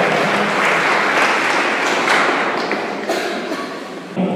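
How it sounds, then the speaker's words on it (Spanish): Applause for the parents at an 18th birthday party, dense, loud clapping from a crowd that continues steadily and tapers slightly toward the end. "aplauso fuerte para los papás"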